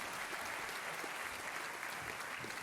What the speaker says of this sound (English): Let's have a round of applause for our first speaker, Edward Ashby